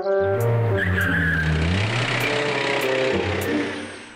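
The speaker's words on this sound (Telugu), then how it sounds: "అక్కడ కారు వస్తుంది చూడు" A cartoon car approaches with a rising engine drone and a tire squeal as it comes to a stop, loud and sustained throughout.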